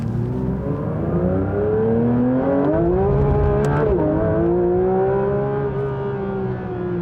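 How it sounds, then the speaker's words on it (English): A Porsche 911 GT3 RS accelerates hard, its engine note climbing steadily through the gears with a brief shift dip midway, loud and sustained throughout. "Okay, it just unleashed. That's the GT3 RS I was expecting."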